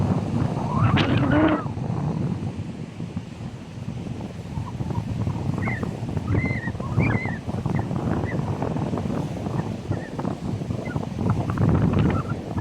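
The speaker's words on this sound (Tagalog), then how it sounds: "Lakas guys ng hangin" Strong wind roaring and buffeting the microphone continuously while fishing by the water, with a loud low rumble, faint wave noise and brief distant voices underneath.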